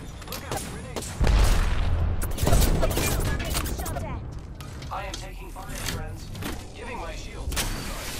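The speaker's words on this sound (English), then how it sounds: "Look out, grenade!" Video game battle with a grenade blast and bursts of gunfire, two heavy booms near the start followed by rattling shots and mechanical clatter, with voices talking over it.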